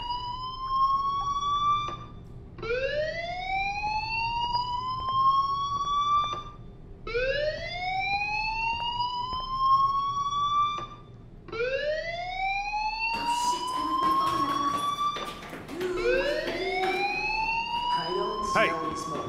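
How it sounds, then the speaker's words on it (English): A school fire alarm in a video game sounds in repeated rising electronic whoops, loud and steady at about two-second intervals, with a burst of noise midway. "Hey, do you hear that fire alarm?"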